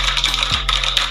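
Quick clattering keystrokes come from an NYK Nemesis Helens MKN-06 mechanical keyboard, an irregular run of sharp clicks close up with a low hum underneath.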